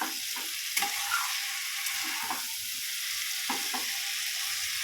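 Small potatoes and tomato fry in spices and oil in a pan, giving a steady hissing sizzle throughout with a few soft scrapes and knocks of stirring, close and fairly quiet, no voices.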